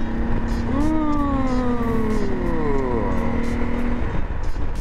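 A car accelerates hard to overtake slow trucks on a wet road, the engine note climbing and sweeping through the gears up close, with road and tyre noise beneath and a voice talking over it.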